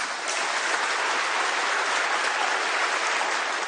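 A dense, steady wash of audience applause after a politician's speech, loud and unbroken across the whole stretch with no voices above it.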